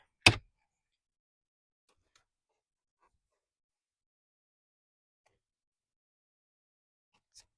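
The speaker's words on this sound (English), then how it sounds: "you can start to pull this part of the trim out" A single sharp plasticky pop near the start as a Tesla Model Y door trim panel is pulled off, then near silence, with a faint small click at the very end.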